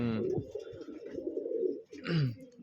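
Pigeons at a hobby pigeon farm coo close by in a steady run of low throaty calls, with a brighter rising call near the end and a little background noise.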